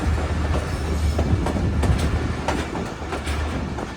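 Bolan Mail passenger train running on newly laid heavy imported rails between Sehwan and Karachi, with a steady loud low rumble and recurring clickety-clack wheel beats, heard from aboard the moving train with no talking.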